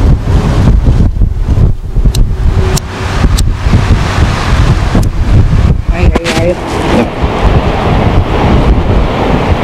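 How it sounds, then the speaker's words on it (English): Strong wind in Titusville, Florida buffets the microphone with a constant loud roar and rumble, steady throughout. "It's so windy."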